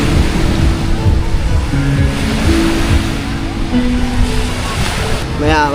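Sea waves wash continuously along the shore in a rural province, a loud steady roar mixed with wind buffeting the microphone and faint distant voices.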